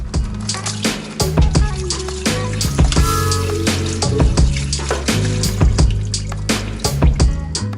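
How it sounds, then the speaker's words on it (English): Coolant drains from the radiator of a Mazda MX5 NA Miata with the radiator cap off, giving a steady, loud splashing trickle of liquid with fluctuating gurgles over a low, humming background. "Remove the radiator cap to help drain the coolant."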